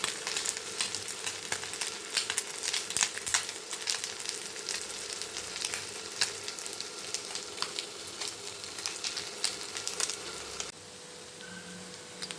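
Kerala-style fish fries in a pan with a loud, dense, steady crackling sizzle that carries on for most of the stretch, then drops to a quieter hiss near the end, with no voices.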